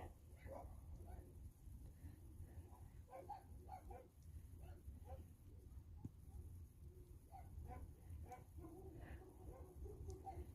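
Many dogs bark around an RV, a loose, continuous chorus of overlapping yaps and woofs, some near and some farther off, over a steady low rumble.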